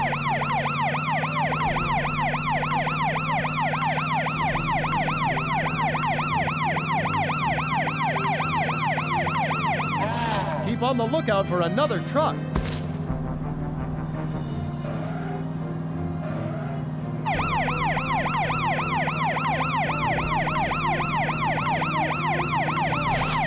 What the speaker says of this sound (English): Use the police car sirens and bullhorn to stop them.